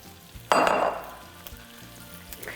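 Broccoli tipped into a pan of sizzling garlic with lemon juice, a sharp burst of frying hiss that fades into a softer crackle, close and loud with no talk.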